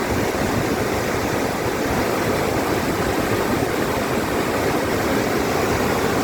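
Water rushes at Wawa Dam in Rodriguez, Rizal, a loud, dense, unbroken roar of torrent with no letup throughout.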